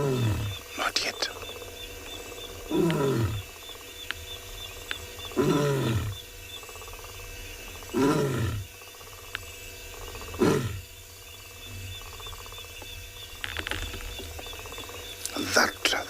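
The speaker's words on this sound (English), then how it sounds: "let's see if she's gonna roar." A lioness on a sunset safari in the Kalahari gives a series of deep roars and grunts, about seven evenly spaced calls, with quiet talking in between.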